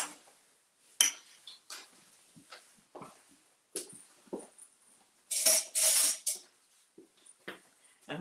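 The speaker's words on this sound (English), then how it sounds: "let me get a clean spoon for tasting" Metal cutlery clinks and rattles as a clean spoon is taken, with scattered light taps and a louder jangling cluster midway, fairly close in a quiet kitchen.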